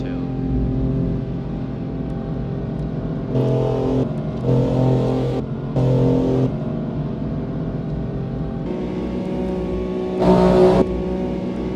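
BMW S55 engine heard from inside the car, a steady droning rev with several short louder surges, the last near the end being the strongest, under no talk.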